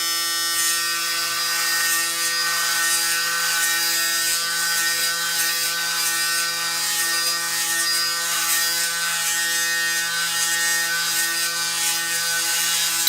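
A Braun Series 9 electric shaver runs with a steady, close buzzing hum and a faint rasp of cutting, unbroken throughout with no talking.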